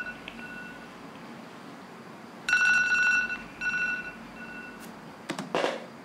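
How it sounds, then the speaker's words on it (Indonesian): Telephone ringing in a short film: a bright electronic ringtone with tonal pulses starts partway through, repeats in short bursts over a faint background, followed by a couple of quick beeps and clicks. "Jadi ada suara-suara telepon."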